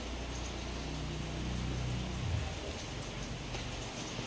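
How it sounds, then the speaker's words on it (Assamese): A rain shower arriving with a storm after a spell of intense heat makes a steady, even hiss throughout, with a low rumble beneath and no voices. "গতিকে আহিল এজাক বৰষুণ"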